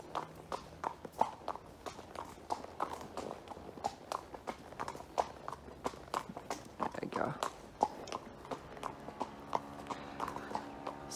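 Hooves clip-clop at a steady walking pace on a hard surface, each step crisp and close, with a voice speaking briefly over the rhythm.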